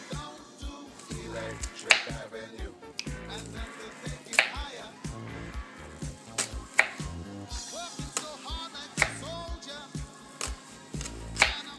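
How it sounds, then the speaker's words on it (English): An onion chopped with a knife on a cutting board in a home kitchen, sharp rhythmic knife strikes repeating steadily and close, with people talking over the cutting. "Alright, so now we're going to start chopping the onion."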